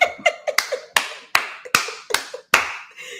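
Eight sharp hand claps ring out close and loud at an uneven, quick rhythm, each with a short ringing tail.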